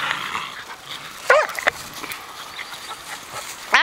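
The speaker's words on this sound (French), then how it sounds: "Oui, ça c'est un bon chien." A dog during a game of fetch with a ball gives two short, high whining yelps close by, one near the start and one near the end, separated by a quiet, faintly hissing room.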